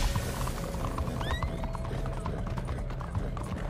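A horse gallops in Red Dead Online during a race, its quick hoofbeats clopping steadily over continuous outdoor ambience, with a brief whinny-like tone partway through.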